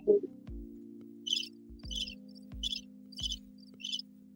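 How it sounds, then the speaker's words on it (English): Crickets chirping in short, evenly spaced bursts about every half second over a steady low hum, clear and fairly quiet, with no voices. "I mean, that's little crickets"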